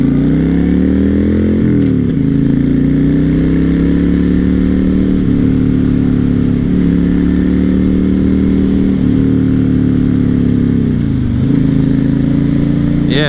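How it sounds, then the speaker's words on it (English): A 2006 Honda VTX1300 motorcycle's exhaust rumbles steadily while riding, a loud, smooth, continuous drone heard close up, with brief dips in pitch as gears shift. "not the loudest exhaust, but that's totally fine because it's not too loud and it runs smoother than bikes that are too loud"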